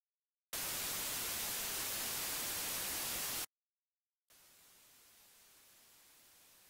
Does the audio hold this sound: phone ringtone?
no